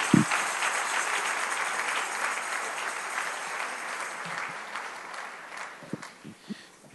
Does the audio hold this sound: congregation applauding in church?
yes